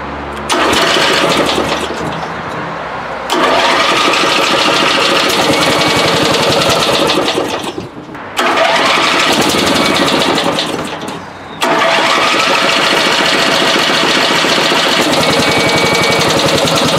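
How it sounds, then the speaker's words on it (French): A petrol engine fed from a spare tank cranks and catches, runs roughly in loud, uneven bursts, twice drops briefly as if stalling, then picks back up. "Bon, il démarre à peu près, il tient pas le ralenti, on a beau accélérer"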